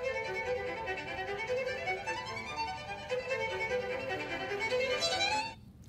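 A bright, major-key Beethoven passage plays as flowing classical music with running melodic lines, moderately quiet and steady, before cutting off near the end.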